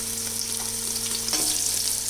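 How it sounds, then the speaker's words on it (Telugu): Onions fry with a little salt in a pan for a jackfruit biryani, giving a steady, close, dense sizzle that holds without a break. "వేగినాయి ఇవి ఆనియన్స్"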